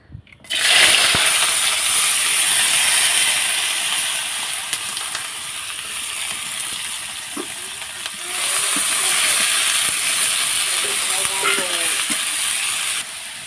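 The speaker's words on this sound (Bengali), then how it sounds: "এখন দেখতে পাচ্ছেন চুলায় আমি কালাই দিয়েছি এটা গরম হয়ে গেছে এখন আমি সবগুলো এখানে দিয়ে দেবো" Banana leaf bharta ingredients tipped into a hot wok burst into a loud, steady sizzle that holds for several seconds, dips slightly, then surges again midway as more is added, with faint clinks underneath.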